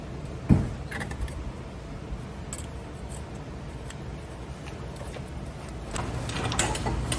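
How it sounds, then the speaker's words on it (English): Brake pads pulled from the caliper of a third-generation Toyota Tacoma give one sharp metallic clack near the start, then faint scraping and light metal clinks over a steady background hum. "Take the brake pads out."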